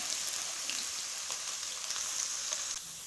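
Onions fry in a hot pan for a Pakistani dahi chicken masala, turning golden with a steady, dense sizzle and crackle that runs unbroken throughout, close and even, with no voices.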